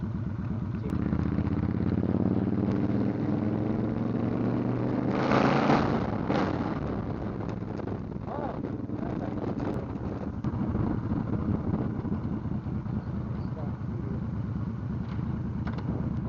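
Motorcycle ridden on a Monday afternoon, its engine a steady close drone buried under heavy wind buffeting on the microphone, with a brief louder swell midway and no speech.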